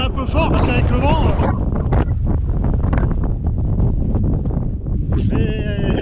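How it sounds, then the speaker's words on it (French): Strong wind buffets the microphone on a coastal hilltop at Cap Sicié, a loud, continuous low rumble with gusty surges throughout, with someone speaking loudly over it at the start and end. "Je parle un peu fort parce qu'avec le vent"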